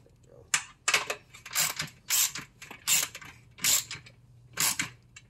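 A ratchet tightens bolts on a metal raised garden bed, giving a series of short, sharp clicking bursts in a fairly even rhythm, close by, with faint talk in the background.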